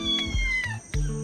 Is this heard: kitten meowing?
yes